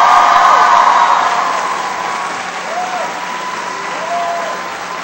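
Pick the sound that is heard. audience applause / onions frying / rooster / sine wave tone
audience applause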